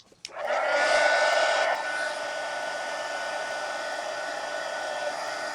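A hair dryer blows steadily to dry paint on an adult coloring book page, starting with a sharp click and loud whooshing airflow, then settling to a slightly lower, constant hum for the rest of the stretch, with no talking.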